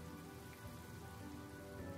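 Steady rain falls in the video game Honkai: Star Rail, a dense, even hiss of drops pattering on surfaces that stays constant and fairly close throughout, with no voices.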